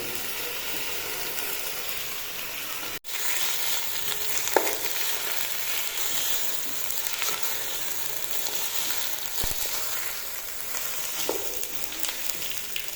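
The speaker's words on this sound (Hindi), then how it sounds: "मज़ीद 3-4 मिनट तक हमने इसको अदरक और लहसुन के पेस्ट में फ्राई कर लेना" Steady loud sizzling of chicken frying in ginger garlic paste in a pan, a continuous crackling hiss with occasional stirring scrapes and clicks.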